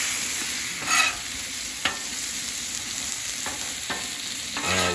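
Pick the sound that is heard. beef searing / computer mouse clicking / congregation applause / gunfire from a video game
beef searing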